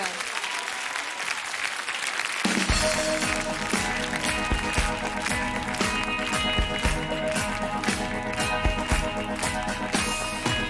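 A TV studio audience applauds a singing duo: steady, dense clapping that swells in after a quiet opening and keeps going loud and even to the end.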